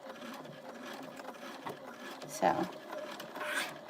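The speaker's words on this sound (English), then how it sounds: "we're just going to top stitch all the way around" A sewing machine top stitches around a fabric Easter basket with cotton thread, giving short mechanical runs and clicks with a louder thump near the middle while a person speaks over it.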